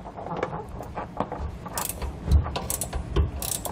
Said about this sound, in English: so you may need to use a wrench